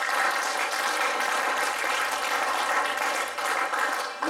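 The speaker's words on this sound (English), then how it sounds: "Give the Lord a hand clap of praise." A church congregation claps in praise to the Lord after a prayer, a steady, dense wash of hand clapping filling the room at even loudness throughout, with no talk over it.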